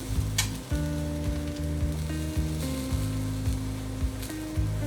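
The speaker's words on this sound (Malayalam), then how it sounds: "ഇതിലേക്ക് നമുക്ക് ക്യാരറ്റ് അരിഞ്ഞത് ചേർക്കാം, ക്യാപ്സിക്കം അരിഞ്ഞത് ചേർക്കാം" Chopped carrot and capsicum fry in a hot pan for oats soup, giving a steady, close sizzle that holds evenly throughout, with a low pulsing hum running underneath.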